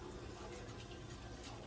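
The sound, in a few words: water poured into rice for cooking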